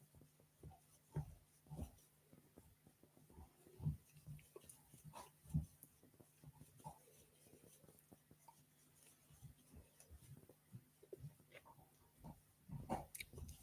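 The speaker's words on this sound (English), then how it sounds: "If you can hear any chomping noises, it's not me. It's the dog out there with a bone." A dog outdoors gnaws on a bone, producing scattered soft chomps and crunches at an irregular rhythm, faint and fairly distant, with no talking.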